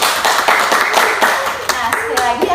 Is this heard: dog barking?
no